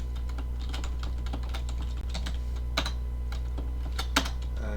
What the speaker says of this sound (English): So let's type it out.